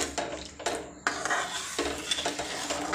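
Tamarind chutney stirred with a small spoon in a pot, several distinct metallic scrapes and clinks against the sides, close and fairly quiet with no talking.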